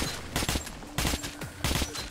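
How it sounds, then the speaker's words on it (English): Bursts of gunfire from a first-person shooter, Metro 2033 Redux, in a subway armory station: three clusters of sharp rapid shots spaced about half a second apart, loud and close with no talk. "Just shooting that guy in the leg right there"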